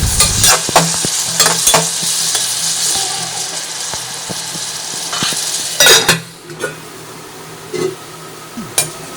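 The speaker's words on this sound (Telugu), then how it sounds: "గోల్డెన్ బ్రౌన్ కలర్ వచ్చే వరకు వేయించుకుందామండి" Two large cut onions fry in oil toward golden brown with a loud, continuous sizzle. Sharp clinks and scrapes from a stirring utensil against the pan break in at uneven intervals.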